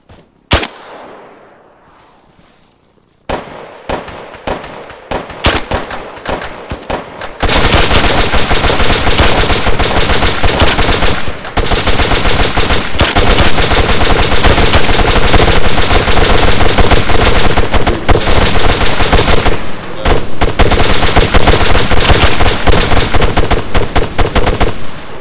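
Sustained automatic gunfire during an airsoft-style team operation, starting with scattered single shots and short bursts, then breaking into loud, continuous rapid fire from several guns that barely pauses for about twenty seconds.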